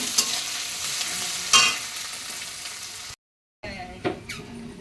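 Garlic and a couple of bay leaves frying in a pan while being stirred, a steady sizzle broken by spoon scrapes, a brief silent gap, then more close stirring and sizzling.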